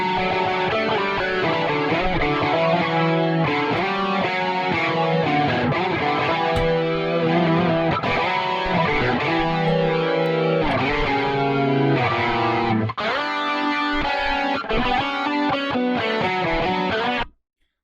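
Electric guitar played through the Archetype Tim Henson Multivoicer multi-voice preset, with dense, layered chords and single notes that ring out continuously and loudly before cutting off at the end.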